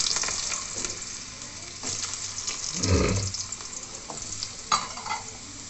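Small chopped potato pieces frying in a pan with garlic, a steady close sizzle with a few stirring scrapes and knocks and no talking.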